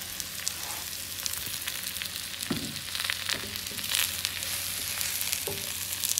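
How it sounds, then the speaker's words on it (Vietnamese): Mushrooms stir-frying with golden fried garlic in a pan give a steady close sizzle and crackle, with occasional scrapes and clinks of a utensil stirring through the contents. "Thì nấm mình xào một chút xíu á"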